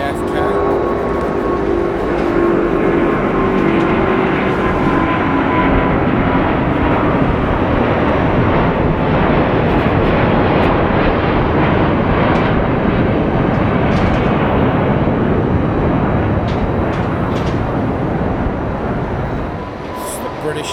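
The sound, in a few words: Virgin Atlantic Airbus A350 taking off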